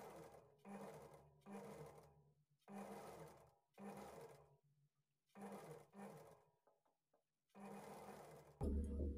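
A sewing machine stitches a lined blouse with piping, running in several short bursts separated by pauses, close and steady, with no talk.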